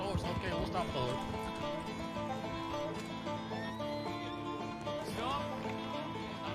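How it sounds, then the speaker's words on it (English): Horse neighing and whinnying in the Red Dead Redemption game world (RedM roleplay), with hoof clip-clop, set in a busy game soundscape where a person talks over it and layered music or ambient sounds play. "Better stop the horse."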